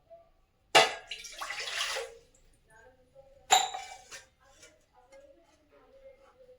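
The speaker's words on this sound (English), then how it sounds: "Now we have to pour glass of water in the vessel." Water is poured from a glass into a cooking vessel in two brief, close splashing pours with a quiet clink. Soft voices are heard between the pours.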